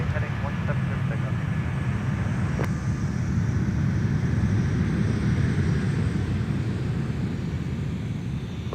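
A Delta airliner takes off from runway 17 at Minneapolis airport, giving a loud, steady jet engine roar that holds throughout, with a faint radio-like voice in the background.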